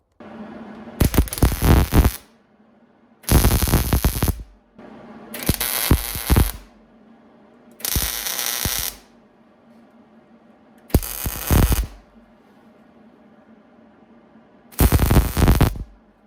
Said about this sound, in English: Super crazy easy to weld.